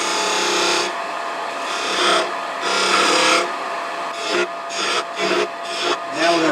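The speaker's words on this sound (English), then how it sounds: "So I'm going to first make a V where I'm going to end this" A lathe tool cuts a V groove into spinning scrap wood, giving rough, scraping bursts of cutting noise in several passes, close and fairly loud with no talk.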